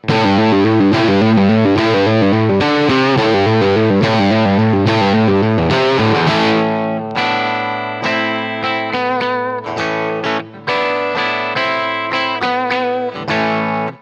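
Distorted electric guitar lead in a classic live-rock style, played through low-output PAF pickups on the bridge pickup with the tone knob rolled back. Loud and continuous, sustained notes and quick phrases ringing thickly alone.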